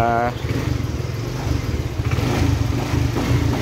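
A Suzuki Skydrive scooter with a check-engine fault idling just after starting, a close, steady, slightly uneven low putter that holds throughout, under a brief voice at the start.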